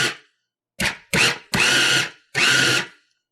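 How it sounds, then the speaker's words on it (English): A food processor pulses frozen beef into ground meat in four short bursts after a brief opening whir, each a loud grinding roar that stops abruptly between pulses. "load your food processor up with the frozen blade and the meat"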